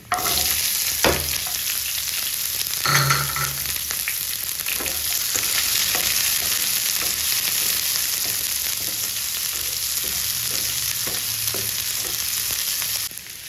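Small shallots and cumin seeds frying in oil for a brinjal curry, a loud continuous sizzle with occasional stirring clicks and scrapes against the pan.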